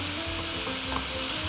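Steady, close sizzling of chicken frying in butter in a hot pan, a dense crackling hiss that continues throughout with no voices.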